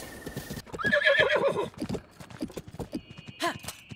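Horses whinny and neigh loudly over a steady clip-clop of hooves galloping along in a Zelda video game, with game-like sound effects and no speech.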